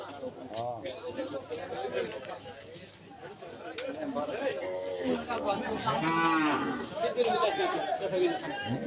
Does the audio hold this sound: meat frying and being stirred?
no